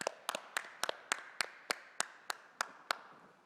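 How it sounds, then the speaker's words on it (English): Steady, evenly spaced claps ring out about a dozen times at an awards event honoring real estate development and construction professionals, crisp and moderately close with no voices over them. "Please join me in the applauding Real Estate Development and Construction honorees."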